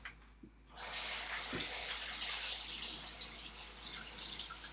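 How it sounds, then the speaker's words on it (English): A knife being washed under a kitchen tap: a steady rush of running water starts after a brief pause and continues, with faint clinks as the blade moves in the stream. "So hold on one second while I wash this knife."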